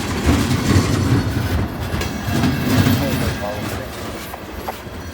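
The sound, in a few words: freight train with three locomotives passing in snow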